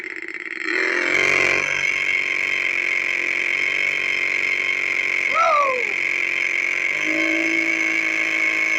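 Small engine of a 1963 Mattel toy held at a loud, steady high-pitched drone at full throttle, close and continuous, with a brief squeal or voice-like sweep partway through.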